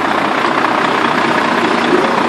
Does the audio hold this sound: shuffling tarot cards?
no